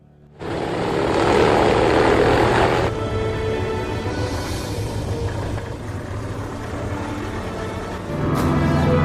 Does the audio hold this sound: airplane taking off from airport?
yes